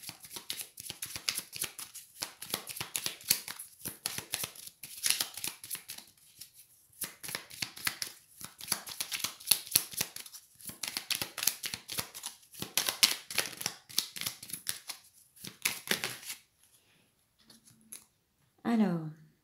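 Tarot cards riffled and shuffled by hand in dense, rapid bursts of crisp flicking for about sixteen seconds, then a pause and a brief final rustle, with no talking.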